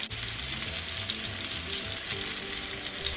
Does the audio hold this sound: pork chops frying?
yes